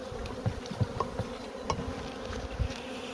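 Bees buzzing around beehives in an apiary, several close wingbeat drones passing with pulsing rises against a steady humming background, no talking.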